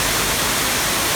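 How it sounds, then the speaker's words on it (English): Oboadaka Waterfalls roar with a dense, unbroken rush of falling water, loud and close for a brief moment with no voices. "That is Oboadaka WaterFalls."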